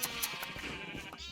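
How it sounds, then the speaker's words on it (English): A Minecraft sheep bleats in a short, wavering cry, faint and close over a soft game backdrop. "I made some yellow sheep, and after that I decided to go and shear them."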